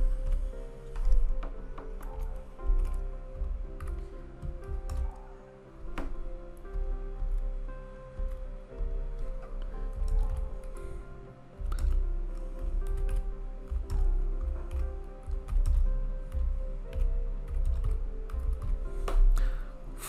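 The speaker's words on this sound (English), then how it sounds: "Let's type something." Steady typing on a computer keyboard, close and continuous, with irregular clusters of light key clicks and occasional heavier taps.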